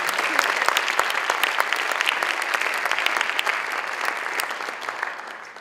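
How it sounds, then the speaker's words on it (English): Gala audience applause welcoming a speaker for a scholarship spotlight: loud, crisp, continuous clapping from a sizable room, steady for several seconds before easing slightly. "Ladies and gentlemen, please welcome by a round of applause Arthenius Jackson for our scholarship spotlight tonight."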